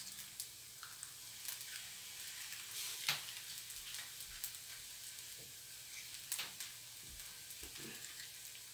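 Zucchini frying in butter in a pan, a faint, soft sizzle with scattered light pops and occasional stirring clicks, quiet and steady without speech.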